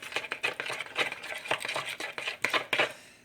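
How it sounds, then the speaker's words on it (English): A spoon or utensil clinks and scrapes in a bowl while salt and ground black pepper are mixed into a seasoning, quick irregular close-up strokes with no voices. "a dash of salt, some ground black pepper. Mix that all together"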